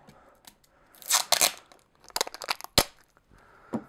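Adhesive tape is pulled from a roll in several short rips and tears, close up, with crinkling between the bursts.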